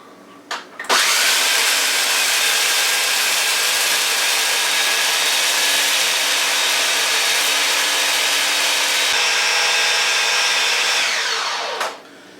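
Motorized machine mixing bratwurst meat, a loud steady whirring drone starting abruptly and running evenly for about eleven seconds before spinning down, close and alone.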